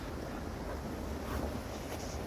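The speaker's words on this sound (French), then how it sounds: "La rivière juste à côté." A river with a small waterfall flows right beside the spot, making a steady, fairly soft rush that stays even from start to finish with no voices.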